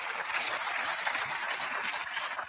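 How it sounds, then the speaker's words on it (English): Audience applause at a talk, a dense steady wash of many hands clapping throughout, fairly faint and distant, with no voices over it. "Finally, people clap for his melodrama."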